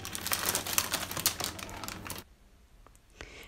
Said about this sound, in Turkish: Yeni aloe vera alırken yapmamız gereken ilk işlem üzerindeki poşeti çıkarmak. Üzerindeki poşeti çıkarıyorum.